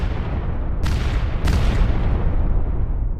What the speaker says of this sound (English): Explosions vibrated the ground beneath him from all over.